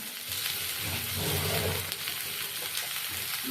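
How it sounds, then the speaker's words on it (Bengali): Chili powder, turmeric powder and salt frying in a pan over low gas, a steady close sizzle with faint stirring scrapes throughout, no talking. "লঙ্কা গুঁড়ো, হলুদ গুঁড়ো দিয়ে দেবো। একটু কষিয়ে নেব।"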